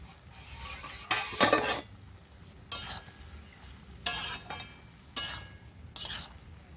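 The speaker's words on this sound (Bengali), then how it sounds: "ঢাকনাটা খুলে এবার আমি একটু নেড়ে দেবো।" Prawn and Malabar spinach curry in a pot stirred just after the lid comes off, a soft simmering hiss with several separate bursts of utensil scraping against the pot, fairly quiet and without voices.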